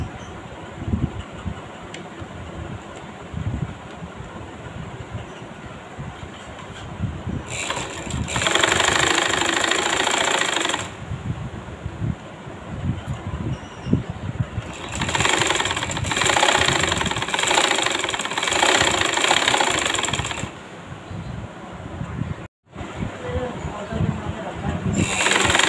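Electric sewing machine stitching the side seams of a belted salwar, running in loud bursts of steady whirring from about 7 to 11 seconds and 15 to 20 seconds, with a quieter mechanical hum between runs.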